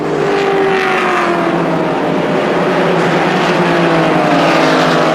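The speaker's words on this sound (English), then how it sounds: "That V8 starts to draw away." V8 race car engine at full throttle on a road course during a Grand Am Cup race, a loud, sustained roar with a steadily rising pitch as it pulls away, with no talk over it.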